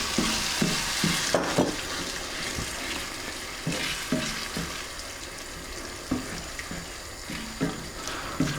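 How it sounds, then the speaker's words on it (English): Chicken karahi curry simmering in a pan with ladled base gravy, a steady broadband sizzle and bubbling with scattered clinks and stirring knocks throughout, close and moderately loud, no talking. "you're just going to be simmering this curry for about 15 or 20 minutes"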